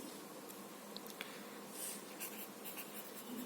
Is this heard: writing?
yes